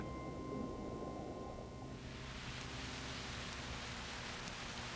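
Tropical rain falls steadily as a soft, even wash of droplets, fairly faint. A low tonal hum fades out early on and leaves only the rain.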